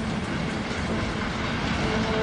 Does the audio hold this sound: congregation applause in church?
no